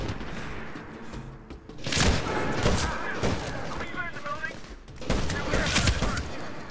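Bursts of gunfire in the military shooter game Medal of Honor Warfighter: loud, cracking volleys of rapid shots that start and stop in clusters, with quieter stretches between them and someone talking over the action.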